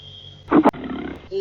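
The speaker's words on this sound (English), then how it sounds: "Lion roars." A lion gives a single short roar, a brief rough burst with a couple of throaty pulses, heard clearly against a quiet background.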